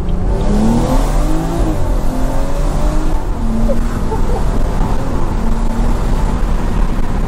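A BMW F30 340i with a catless downpipe revs loudly and continuously, its exhaust pitch rising and falling through several throttle pulls, harsh and close throughout.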